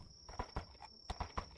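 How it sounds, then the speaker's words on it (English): Hooves of a ridden horse clip-clop softly at a walking pace at night, several distinct, close but quiet thuds in an uneven rhythm with no talking. "the horse that I am upon, being able to see at night"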